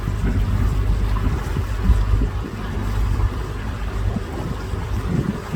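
A boat cruises along a canal nearly 300 kilometres long with many locks. Its steady low engine rumble carries on throughout, mixed with wind buffeting the microphone.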